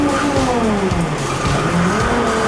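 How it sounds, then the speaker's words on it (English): Case backhoe engine running steadily and loud up close, with a shifting tone as the bucket swings back under hydraulic load. "You hit the lever like that, bucket comes back, lever kicks out all on its own."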